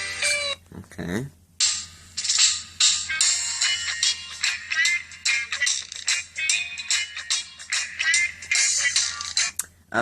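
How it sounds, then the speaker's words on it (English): Ringtones play on an LG Wine II flip phone: bright, chiming synthetic melodies in short bursts, separated by brief pauses, loud and close. "So it has ringtones for pretty much anybody"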